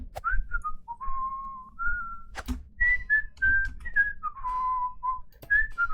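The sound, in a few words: whistling in a video game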